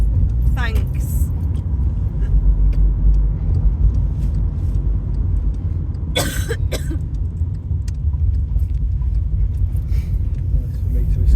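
Car interior on a drive near Cawston and Nottingham, with a steady low road rumble and engine drone throughout, joined by a few coughs and light rattles, close and continuous.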